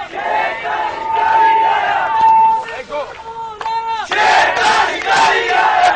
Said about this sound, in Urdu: نعرے بھی میں نے سنوا دی